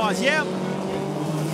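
Formula 1600 race cars at the Trois-Rivières Grand Prix drone steadily in the background, engine noise running under a commentator's continuous talk.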